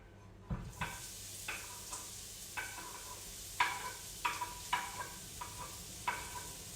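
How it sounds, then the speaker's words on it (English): Onions fry in olive oil in a pan over a small flame, a faint sizzle punctuated by about a dozen light, irregular clacks of a wooden spoon mixing them. "Add onions."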